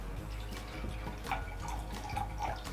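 Liquid pours into a measuring cup while making popping boba, a steady close trickle with small drips and splashes, no talking.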